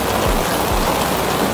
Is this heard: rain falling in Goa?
yes